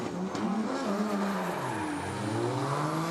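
Drift car engine at Okuibuki Motorpark revving hard through shifting pitch sweeps, with tire squeal, loud and continuous.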